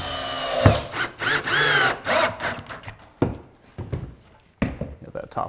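A power drill drives 2.5-inch self-tapping screws into wood on an outdoor build, with loud whirring bursts that start and stop in an uneven rhythm, close by, and voices talking between them.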